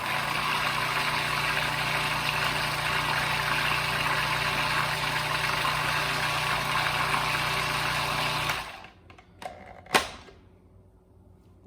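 A food processor whirs peeled sweet potatoes into citrus sweet potato butter, a loud, steady motor drone for about eight seconds before it cuts off, followed by a few light clicks and knocks.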